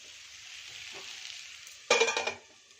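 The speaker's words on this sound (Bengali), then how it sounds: "এটাকে আমি আবার ঢাকনা বন্ধ করে 2 থেকে 3 মিনিট কম ফ্লেমে পাকিয়ে নেব" Mushroom and potato cook in a covered pan on a low flame, a soft steady sizzle that swells into a brief louder burst of frying and lid or stirring noise near the end, with no speech.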